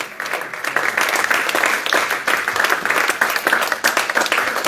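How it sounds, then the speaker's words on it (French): A church congregation applauds and cheers, with dense, loud rhythmic clapping that carries on unbroken from start to end, and crowd voices mixed into the clapping. "mets-toi debout et acclame le Seigneur ce soir bien fort"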